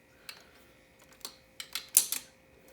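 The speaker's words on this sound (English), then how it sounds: "he's using this tiny ratchet" A tiny ratchet on a 1986 Honda ATC 200x head gasket bolt gives short bursts of light clicking, close and faint, with brief pauses between the turns.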